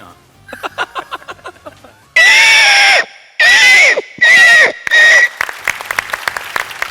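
A mimic on a comedy stage voices a pig in four loud, squealing bursts with short gaps, after a quiet patch of light clapping; scattered audience applause follows.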